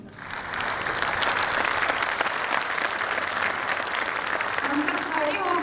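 Sustained audience applause from a standing crowd at a family welcoming ceremony, dense steady clapping that starts after a brief soft lead-in and continues loudly throughout.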